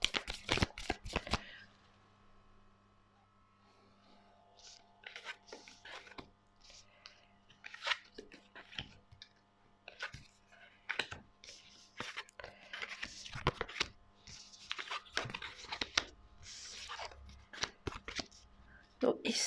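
Tarot cards are shuffled by hand in a string of crisp, riffling flicks and taps, close and fairly quiet, with soft speech nearby.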